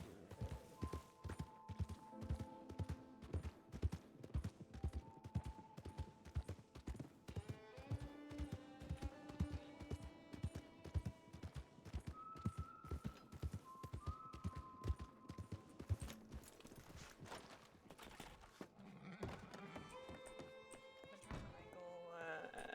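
Horse hooves clip-clop steadily at a walking pace in the RedM roleplay game, a long run of even, close hoof beats with people talking over them and brief musical tones in the background.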